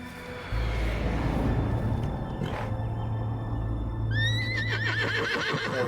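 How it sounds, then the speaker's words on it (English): A horse in the video game Metal Gear Solid gives a shrill, wavering neigh near the end, over a steady low game soundscape and a faint rumble. "cavalo a chorar a morte dela, da boss"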